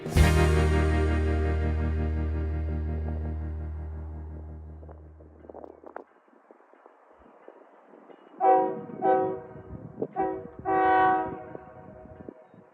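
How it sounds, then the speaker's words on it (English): A 41-car freight train passes as a heavy low rumble fades into the distance, then several loud horn blasts sound in a broken pattern. "the passage of this 41-car train harkened back to better days"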